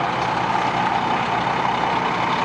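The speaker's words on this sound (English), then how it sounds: "That noise you hear is this diesel running." A diesel engine runs nearby beside a 2003 Coachmen Leprechaun 314SS motorhome, a steady, loud low rumble that holds without change throughout, with no talking.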